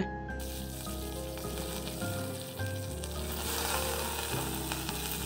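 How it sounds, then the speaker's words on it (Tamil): Green chillies and curry leaves frying in hot oil for a tiffin sambar, a steady close sizzle and crackle that holds throughout with faint background hum and no talking. "ரெண்டு இல்லை மூணு பச்சை மிளகாயும் கொஞ்சம் கருவேப்பிலையும் சேர்த்து வதக்கிக்கங்க"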